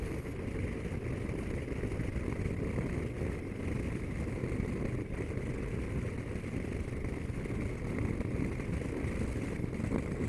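A CFMOTO 650MT motorcycle rolls along in 5th gear just under 40 mph, its engine a steady low drone blended with wind rush, even and unbroken throughout.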